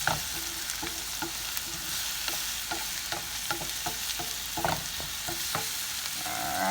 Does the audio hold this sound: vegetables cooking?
yes